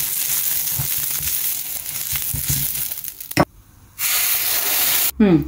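A slice of poda, a Konkani fried snack, sizzles as it is laid in a very hot pan, giving a loud, steady crackling hiss that breaks off briefly, surges back strongly, and ends with a short clatter.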